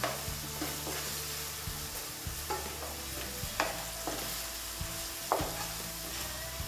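Ginger and garlic stirred in a hot pan for Bengali doi maach, a fish curry with curd: a steady close sizzle with repeated scraping strokes of a spoon and a few sharper clinks, with no one talking.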